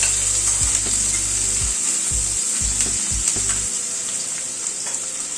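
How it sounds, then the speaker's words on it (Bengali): Chopped onion fries in oil over a medium gas flame, giving a constant bright sizzle broken early on by a few knocking stirs in the pan. "গ্যাসের ফ্লেমটাকে মিডিয়ামে রেখে পেঁয়াজটাকে ভেজে নিচ্ছি"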